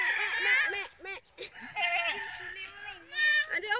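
Goats on a farm bleat repeatedly in wavering, nasal cries close by, some overlapping, while people chatter and a voice can be heard among them.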